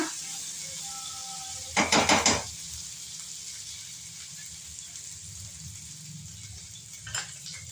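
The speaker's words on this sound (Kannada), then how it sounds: "ಅದೇ ಬಾಣಲಿಗೆ ಆಗಿರುವಂಥ 1 ಸ್ಪೂನು ಬೆಣ್ಣೆಯನ್ನು ಹಾಕ್ಕೊಳ್ಳಿ. ಆ ಬೆಣ್ಣೆ ಕರಗತ್ತಿಲ್ಲ." A spoonful of butter heating in a pan for palak paneer gives a faint, steady hiss, broken by a brief loud clatter of a utensil against the pan and a softer knock near the end.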